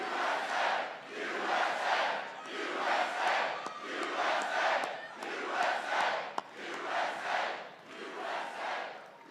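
A large crowd at an outdoor political rally in Ohio cheers and chants in loud rhythmic waves, rising and falling repeatedly with no one speaking over it.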